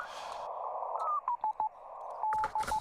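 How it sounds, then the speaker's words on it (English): Morse code tones come over a ham radio as a steady pitched beep keyed on and off in short and long elements, set against a band of static hiss, fairly faint and with no voices. "That's Morse code."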